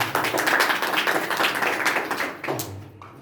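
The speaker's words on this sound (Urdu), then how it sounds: "ایک دفعہ تالیاں خداوند کے لیے." A church congregation claps for the Lord during a worship service, a dense burst of many hands that fades out after a few seconds.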